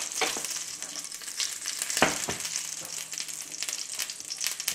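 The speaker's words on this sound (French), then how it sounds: "Je vais mettre un beau morceau de beurre clarifié. Et on va venir saisir les Saint-Jacques." Scallops searing in clarified butter in a hot pan, giving a steady loud sizzle and crackle with a sharper spatter burst partway through, no voices.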